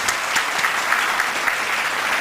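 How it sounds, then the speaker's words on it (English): Steady, dense applause from an audience at an inclusive innovation awards ceremony, even and sustained throughout, with no voices over it. "Please, a round of applause."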